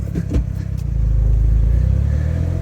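Small Suzuki Cara kei car engine idling and pulling up onto a large truck scale, a close, steady low rumble with a few clunks at the start.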